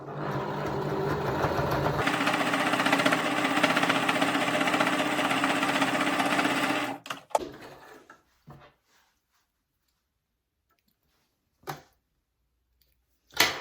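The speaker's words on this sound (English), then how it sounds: "we're going to pop it into the sewing machine, and we're just going to stitch down this one side again" Sewing machine stitching down one side of quilt fabric, a steady loud mechanical whir running for about seven seconds before stopping, followed by a few faint handling knocks.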